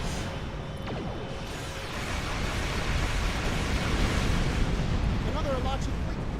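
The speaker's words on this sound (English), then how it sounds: "Oh my god, that's a lot of torpedoes!" Continuous rumbling explosions of torpedoes in a space combat video game, a dense, steady roar that swells slightly partway through, with faint game tones over it.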